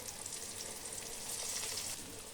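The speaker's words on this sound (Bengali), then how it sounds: "এইভাবে উল্টিয়ে পাল্টিয়ে বেগুনগুলোকে ভালো করে ভেজে নিতে হবে।" Steady crackling sizzle of eggplant frying in hot oil, close and continuous, with a brief louder clatter at the very end.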